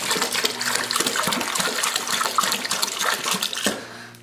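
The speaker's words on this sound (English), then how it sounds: "I like pouring the cider in from really high up." Hard cider poured from high up into a sanitized bucket: a loud, continuous splashing gush of liquid with bubbly churning, running steadily for about four seconds before cutting off, no talking.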